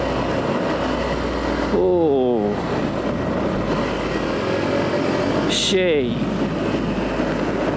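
A Yamaha FZS V motorcycle rides slowly along a hill road, its engine humming steadily with a couple of rising rev sweeps, while the rider talks over it.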